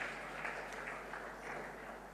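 Audience applause for a presenter at a church conference, a faint steady patter of many hands clapping at a distance, sustained for a couple of seconds.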